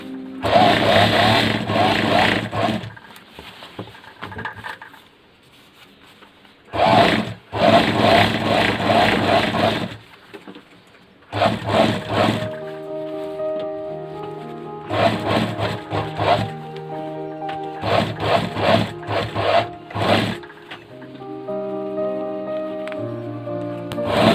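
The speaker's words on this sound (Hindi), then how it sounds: "अब हम इसको दोस्तों बराबर रखते हुए सिलाई लेंगे" Sewing machine stitching a zipper onto a jacket, loud mechanical runs in several bursts of a few seconds each, separated by quiet pauses with some background music.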